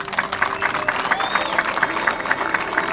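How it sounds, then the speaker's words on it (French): Crowd applause for a provincial governor at a bridge works launch ceremony in Lualaba, steady clapping from many hands with a faint tonal whine and some murmuring voices underneath. "on peut l'applaudir s'il vous plaît"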